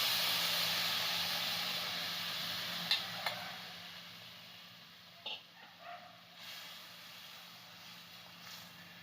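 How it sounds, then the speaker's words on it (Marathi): Sprouted moth beans and their soaking water go into hot whole spices for misal, giving a steady close hiss and sizzle with a few clinks and stirring knocks that fade as it settles. "हे मटकीचं पाणी आणि मटकी टाकून घेतो आपण"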